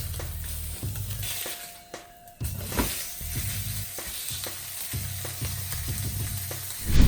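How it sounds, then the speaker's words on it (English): Steak frying in a hot pan gives a close, steady sizzle with crackles, broken by a few scraping and clattering handling noises as it is moved. "I usually cook the steak about 2 to 3 minutes per side to make sure it cooks through"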